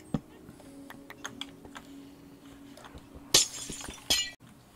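Glass blocks shatter in Minecraft: two sharp, bright breaking bursts near the end, after a stretch of quiet clicking, with no voice over them.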